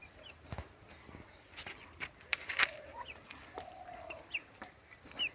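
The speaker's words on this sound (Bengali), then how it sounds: "হাঁসগুলো সব জড়ো হয়ে একটি মাছ কাটতে দেখলে।" Chinese ducks cluster and call as fish is cut at a riverside village cooking spot, giving scattered short clucking quacks with a few footsteps, close by and with no talk.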